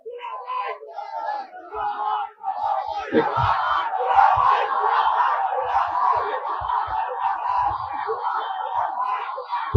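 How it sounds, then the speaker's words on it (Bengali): A large crowd at a political rally in Sylhet chants and shouts slogans together, a loud, dense wall of voices that swells and keeps going nearly without a break, with scattered yells and bursts of laughter. "স্লোগান দিলে কথা শুনতে পাবো না তো"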